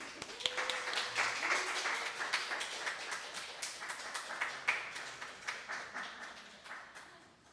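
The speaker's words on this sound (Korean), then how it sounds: "박수로 환영해 주시기 바라겠습니다" An audience at a special lecture during a church worship service claps to welcome the guest professor, a dense burst of applause that thins into scattered, fading claps with no talking.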